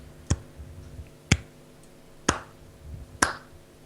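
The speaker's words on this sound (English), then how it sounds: "Single claps echoing through the halls, eerily silent as they are." Four sharp single claps spaced about a second apart, each ringing with a reverberant echo as if in a large empty hall, with quiet between them, in a Pathfinder tabletop role-playing game session.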